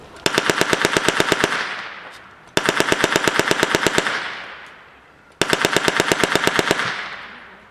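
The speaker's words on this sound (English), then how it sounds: "The gunner fires in short controlled bursts to keep the gun cool" A WW1 machine gun at a historical display fires three separate bursts of rapid, evenly spaced shots, each loud and sharp and lasting about two seconds, with short pauses between them and no talking.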